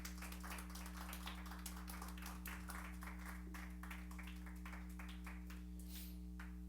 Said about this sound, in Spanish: Dale ofrenda de palmas al Señor pues con todo su corazón.